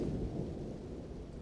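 Low, dense rumbling thunder from a lightning spell in the video game Elden Ring, cast inside Caria Manor, rolls steadily and loud throughout with a rain-like hiss and no talk.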